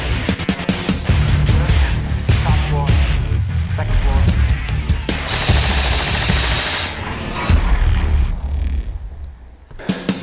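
A Classic Army SCAR CQC Sportline airsoft AEG on a 7.4 LiPo firing BBs in rapid full-auto bursts, loud and close, with rattling mechanical cycling between bursts and people talking over parts of it outdoors.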